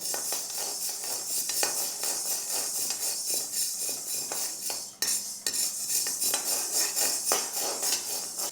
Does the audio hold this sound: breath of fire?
no